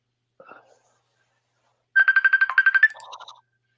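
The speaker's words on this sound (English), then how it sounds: "Oh, that's my phone." A mobile phone ringtone sounds in a quick run of rapid repeated electronic beeps, fairly loud and near, after a faint brief murmur earlier.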